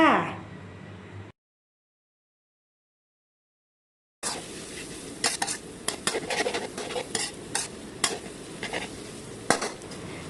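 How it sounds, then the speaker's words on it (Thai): Soba noodles with egg being stir-fried in a pan, with scraping and clinking of a utensil against the metal and a faint sizzle, coming in after a short silence. "จากนั้นค่ะก็ใส่เส้นโซบะลงไปค่ะ แล้วก็ผัดต่อค่ะ"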